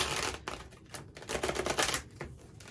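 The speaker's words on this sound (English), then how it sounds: "sometimes the shuffling is going to be a little rough because they need broken in" Quick, rough riffling of a deck of tarot cards being shuffled, in several short bursts close by.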